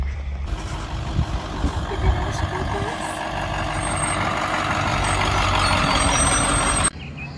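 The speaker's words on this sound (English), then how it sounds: "a bus takes you up the hill to your destination spot" A shuttle bus idles and rumbles with a steady low engine drone and a hiss of air, close and loud throughout, ending with a sudden cutoff.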